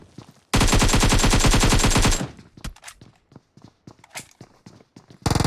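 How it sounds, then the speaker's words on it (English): AK rifle fire in the mobile battle-royale game PUBG Mobile: a loud, continuous automatic burst of rapid shots for about a second and a half, followed by scattered quieter single shots and footsteps, then another short loud burst at the end. "Triggs comes in. He's got the AK."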